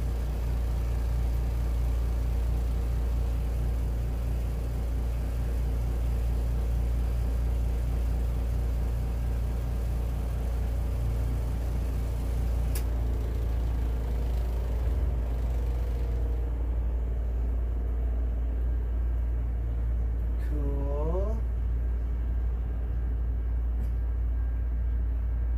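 A Kuppet 10lb washer spinning, a loud constant low motor hum and rumble with a whirring drone that shifts in pitch partway through, close and unbroken, no voices.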